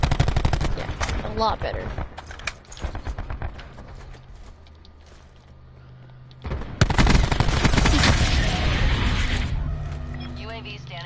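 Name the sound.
gunfire in video game Black Ops 4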